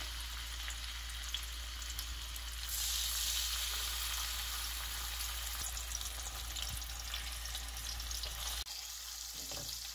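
Pieces of dough frying in oil in a pan, a continuous bright sizzle that swells louder as more pieces go in, close and steady with no talking.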